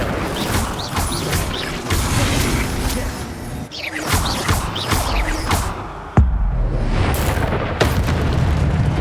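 A fiery spell bursts and roars in the Hogwarts Legacy video game, with dense booming blasts and crackling impacts layered over continuous game effects, followed by a sharp crash near the end.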